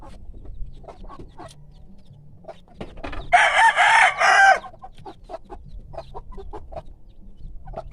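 Two 45-day-old farm chickens cluck close by, with a loud rooster-like crowing burst in the middle over a quieter rural background.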